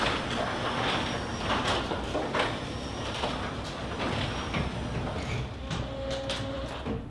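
A LiftMaster 8500W high-lift, wall-mount garage door opener runs steadily as it opens the door, giving a continuous mechanical rumble and whir with a few faint clicks and knocks. No voices are heard.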